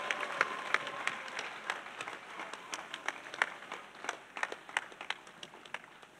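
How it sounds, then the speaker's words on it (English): A congregation claps as an offering to Jesus Christ during a church gathering, rapid scattered handclaps forming a lively, fairly distant wash of applause with no talk over it. "Clap offering to Jesus Christ."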